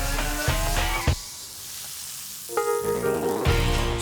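Food sizzles steadily in olive oil in a hot pan for a chicken escalope dish with shallots, garlic and tomatoes, with a brief quieter lull midway and music playing alongside.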